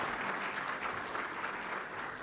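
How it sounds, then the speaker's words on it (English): Audience at the Open Chicago Annual Conference 2019 gives a round of applause: a dense, even wash of clapping from many hands, sustained throughout with no voices. "So let's take a big round of applause for Mr."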